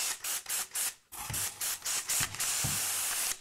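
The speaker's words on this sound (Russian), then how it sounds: "здесь подпшикиваю" A hand spray bottle mists sprouting seed potatoes set under a heater, a run of short hissing squirts, about a dozen in quick uneven rhythm, close and clear with faint trigger clicks.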